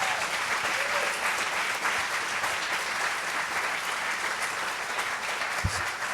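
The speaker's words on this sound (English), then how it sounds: "How about a round of applause for that?" An interview audience breaks into sustained applause, even dense clapping heard at a moderate distance, with no talk over it.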